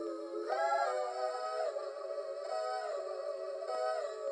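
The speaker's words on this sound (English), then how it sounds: "First vocal chop sounds like this." Chopped vocal sample from a sample library, sustained harmonic sung tones that shift pitch in short phrases, smooth and airy with no drums or talking.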